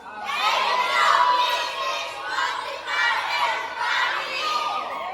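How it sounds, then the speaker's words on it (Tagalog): A group of voices, many sounding young, shouting and cheering together in Filipino in loud swelling bursts that rise and fall. "Isa pa, sigaw!"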